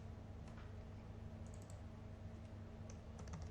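Fingers type code on a computer keyboard, giving quiet close clicks in an irregular patter over a faint steady hum.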